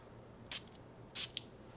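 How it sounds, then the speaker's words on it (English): Two quick hisses from a Guerlain Tobacco Honey perfume atomizer, each a short bright burst of fine spray, close and alone in a quiet room, the second followed by a tiny faint puff. "So let me spray this, show you the atomizer"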